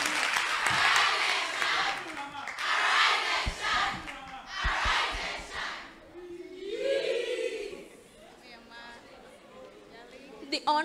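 At a high school debate between Kumasi Wesley Girls and New Edubiase SHS, the audience applauds and cheers a supporting speaker in several loud, surging bursts of clapping and shouting voices, easing off before a lone voice and scattered claps.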